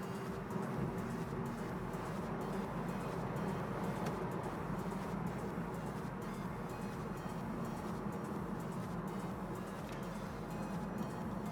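Steady broadband rush of wind and road noise inside a Citroen DS5 cabin at highway speed, continuous and even throughout with no talking.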